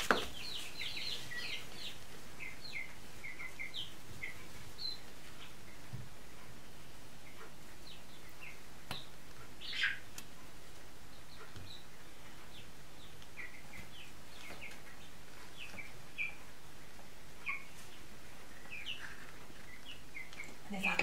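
Six young chicks chirping and peeping while they feed, with many short high calls scattered throughout, faint and fairly distant over a steady low background.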